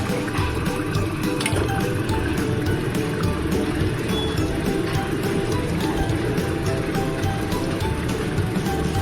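Potato curry gravy for a fish jhol bubbles in a pan, a steady, close, watery burbling with busy popping that carries on evenly throughout.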